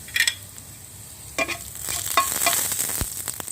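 Chopped ginger and black cumin frying in oil, a close, continuous crackling sizzle with a few sharp scrapes and clicks of stirring scattered through it.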